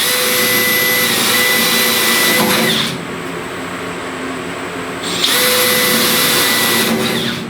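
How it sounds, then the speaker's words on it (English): A power drill bores holes in car body metal for dent repair, whining loudly in two sustained bursts separated by a lower, quieter run of the motor in between. "You got to be careful drilling close to other holes you just drilled"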